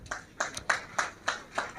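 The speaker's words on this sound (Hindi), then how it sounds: "देखिए ताली बजाने में आपका ही फायदा है" A few people clap hands in short separated bursts, about six quick claps spread across the moment, light and fairly close at a Eid Milad event.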